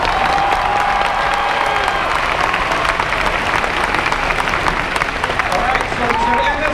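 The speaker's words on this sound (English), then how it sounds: "Let's give these guys a huge round of applause." Audience applause fills a D23 Expo panel hall, a loud continuous wash of clapping with some cheering from the crowd, sustained throughout while a voice speaks faintly over it.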